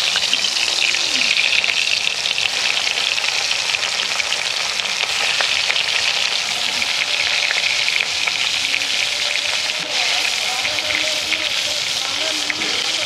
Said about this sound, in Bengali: তেল গরম হয়ে গেছে, একে একে মাছগুলো তেলেতে ছেড়ে দিচ্ছি।